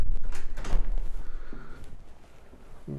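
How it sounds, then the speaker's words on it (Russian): Large aluminium entrance door of a new residential building being opened, with a few clunks and a short scraping slide, followed by a lighter knock near the end. "А мне нравится, что большие входные алюминиевые двери."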